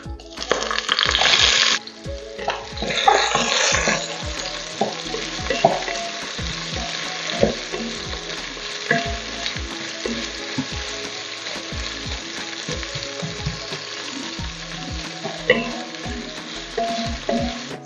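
Chopped onions tipped into hot oil with cloves and cumin for malai kofta, a loud hissing burst at first that settles into a continuous close sizzle with intermittent stirring clatter.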